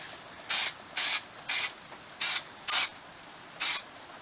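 Spray adhesive bursts from a nozzle while a seat cover is fitted on a Yamaha FZ50 motorcycle: six short, loud, hissing sprays in an uneven rhythm, separated by brief near-silent pauses.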